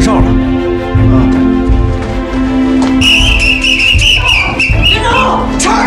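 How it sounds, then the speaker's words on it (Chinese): A shrill whistle blown in several quick bursts over a noisy scene with engines and shouting voices, loud and close. "是不是有人吹哨了？"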